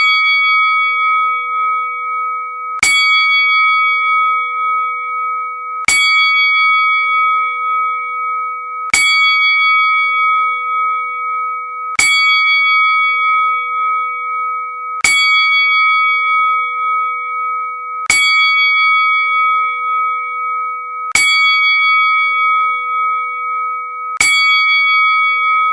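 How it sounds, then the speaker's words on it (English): Memorial bells toll in a ten-bell count for a wrestling tribute: single clear metallic strikes at a slow, even pace about three seconds apart, each ringing out and decaying, eight heard here with no voices. "the memorial 10 bells for the People Champ"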